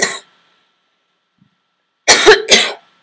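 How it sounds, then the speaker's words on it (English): A single short cough, then a pause of near silence, followed by two more sharp coughs in quick succession, close to the microphone. "It doesn't help that I cough during my recording."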